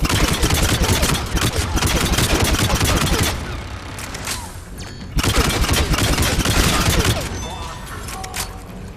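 Rapid automatic turret gunfire from the video game Mass Effect 3, loud and dense in two sustained bursts with a brief lull between them.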